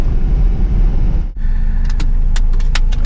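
Toyota 22R engine running steadily while warming up on a hillside test drive, a continuous loud low rumble that dips briefly, then resumes with faint clicks and rattles over the drone; no talking.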